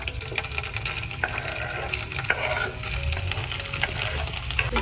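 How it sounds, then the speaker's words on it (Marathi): Finely chopped onion fries in hot oil, a dense continuous sizzle with a spoon stirring and scraping the pan now and then, close and fairly loud with no talking. "आता आपण त्याच्यामध्ये हा बारीक चिरलेला कांदा आहे ना, तो टाकून घेऊया."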